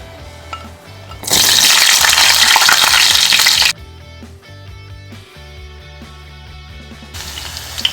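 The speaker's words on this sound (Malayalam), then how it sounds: "അപ്പോൾ അതിന് വേണ്ടിയിട്ട് വെളുത്തുള്ളി നമുക്കൊന്ന് ഫ്രൈ ചെയ്തെടുക്കണം" Garlic frying in a pan for dry garlic chutney to go with vada pav: a loud, steady sizzle and crackle bursts up for a couple of seconds, then drops back to quieter clinks and stirring.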